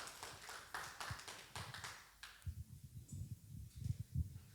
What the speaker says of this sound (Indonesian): kita kasih tepuk tangan yang meriah untuk Pak Panca Karsum